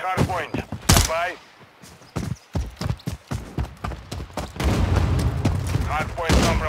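Rapid bursts of gunfire crack through a Call of Duty Modern Warfare 3 Hardpoint match, dense volleys and sharp reports piling up near and loud, with game voice lines and battlefield clatter mixed in.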